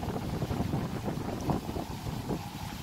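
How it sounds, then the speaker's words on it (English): Strong wind roars and buffets the microphone in steady low rumbling gusts, with a faint hiss of open water beneath. "It's super windy, which I'm sure you can hear"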